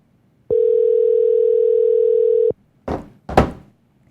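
An outgoing phone call during a live call-in show: one loud steady ringback tone lasting about two seconds, followed by two short thumping knocks, with no voices.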